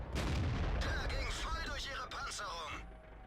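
Tank cannon fire from a tier 7 Soviet medium tank in World of Tanks, heavy booming shots at a quick rate of fire, loud and close, with someone talking over them.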